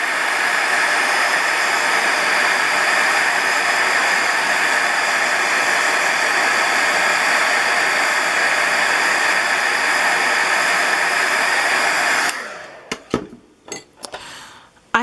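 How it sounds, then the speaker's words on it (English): A heat tool blows a loud, steady roar for about twelve seconds while warming a craft slide box to loosen its adhesive, then cuts off, leaving a few brief handling knocks. "What we're going to do is heat it up with our heat tool real quick just to loosen up the adhesive."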